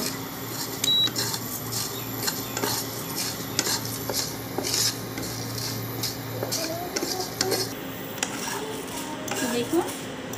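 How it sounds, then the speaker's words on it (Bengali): Dried red chillies and spices fry in a pan for a raw mango pickle, with a soft continuous sizzle under frequent metallic scraping and clinks of a spoon stirring against the pan, close and steady throughout. "এবার এর মধ্যে যে বাকি উপকরণগুলো আছে এগুলো আমি দিয়ে দেবো, দিয়ে এগুলোকেও আমি একটু ভেজে নেব।"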